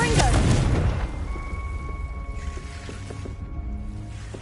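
A Confringo spell blast exploding in Hogwarts Legacy, a heavy booming burst at the start that fades into a rumbling, crackling tail with a faint ringing tone, with a voice partly over it.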